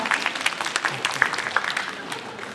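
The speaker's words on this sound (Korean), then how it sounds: "여러분 박수 보내주시기 바랍니다." Scattered light applause at a Korean sharing award ceremony honoring a prime minister's commendation recipient, a modest crowd clapping unevenly with distinct individual claps, fairly soft and mid-distance.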